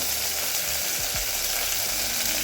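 Steady, dense sizzling of a hot oil tempering in a pan as coriander leaves are added, with a couple of brief low clunks partway through and no voices.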